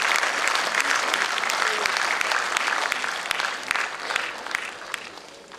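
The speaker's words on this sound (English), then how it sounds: "Can we please have a round of applause for Ms." An audience at a school Christmas carnival event bursts into sustained applause, a dense wash of clapping from many hands that holds steady before tapering off slightly toward the end.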